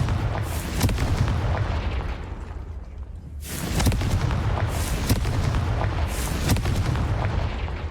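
A Confringo blasting curse explodes in Hogwarts Legacy, heard as loud, booming bursts repeating over rumbling battle noise, with a short dip near the middle before the blasts resume.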